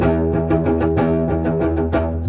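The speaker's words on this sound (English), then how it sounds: "So then we can try playing something like this as a power chord." An electric guitar power chord played through heavy distortion, strummed in a quick repeating rhythm with thick, sustained, buzzing tone, loud and close with no talking.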